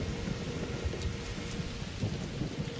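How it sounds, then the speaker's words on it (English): Thunder rolling from lightning strikes in the video game Arc Raiders, a low continuous rumble with rain hiss and a couple of sharper cracks, no talk. "Oh, watch out for the lightning."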